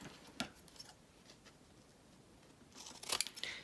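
Scissors snip through a junk mail paper envelope pocket, trimming it down in a few close, crisp cuts separated by quiet pauses, with no talking.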